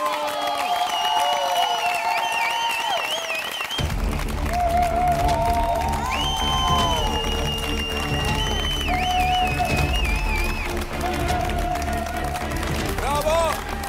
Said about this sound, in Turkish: çok büyük alkışlarla Uğur ve Kerem'i alıyoruz